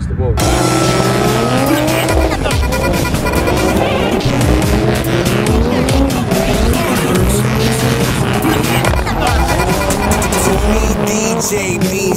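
A drift car at the JDM Allstars event at Wembley 2008 slides through a big left-hand bend with loud, continuous tire squeal over a roaring engine, heavy and close throughout, with commentary running over it.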